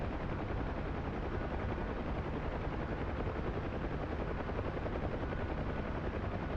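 A Huey helicopter flies fast in the DCS World flight simulator, its dense rotor thump and turbine roar held constant and loud for several seconds with no voices.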